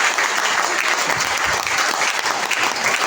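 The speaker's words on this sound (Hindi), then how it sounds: "एक बार जोरदार तालियां बजा दो आप इस आदमी के लिए" An indoor audience at a motivational talk claps loudly and continuously, a dense, even wash of applause with no pauses.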